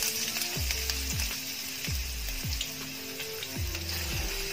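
Chopped onions sizzle in two spoons of hot oil for egg fried rice, a steady crackling fry punctuated by repeated scraping strokes of a spatula against the pan.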